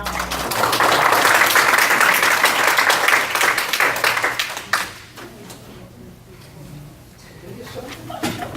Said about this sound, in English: you will help me give them a warm round of applause